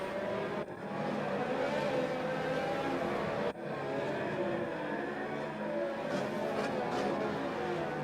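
F1 race cars circulating the Monaco street circuit in a racing video game, a steady dense engine roar with several cars overlapping, loud and continuous with a brief dip partway through.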